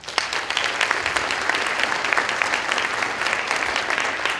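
Conference audience applauds in a steady burst of dense, crackling clapping that holds throughout at moderate loudness.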